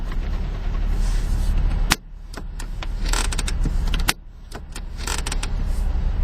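Power windows in a 2011 Nissan 370Z NISMO Edition whir as their motors run, with two sharp thuds where each window stops before the whirring starts again, heard up close inside the car.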